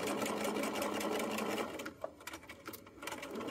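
A sewing machine runs steadily while stitching the bottom seam of a fabric fanny pack with a quarter-inch seam allowance, a continuous close mechanical whir that stops after about a second and a half, leaving a few soft handling clicks.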